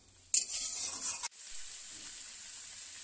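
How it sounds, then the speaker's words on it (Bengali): Potatoes and cauliflower cooking with spices in a pan, stirred vigorously for about a second with scraping and loud sizzling, then a steady, softer frying hiss continuing alone. "খুব ভালোভাবে মশলার সঙ্গে আলু আর ফুলকপি গুলো একটু কষিয়ে নেব।"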